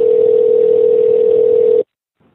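A telephone dial tone hums as one loud, steady, unbroken pitch after a call is disconnected, then cuts off abruptly, leaving near silence with a faint trace of noise.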